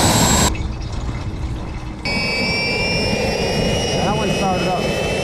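A small jet engine fueled with diesel roars steadily at close range, the noise briefly dropping before a high whine rises and holds as it starts and keeps running.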